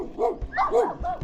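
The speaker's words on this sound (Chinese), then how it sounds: "不咬了，对，小狗可爱。" A small dog in a mango orchard gives three quick, close yappy barks with a whimpering edge, loud and alone.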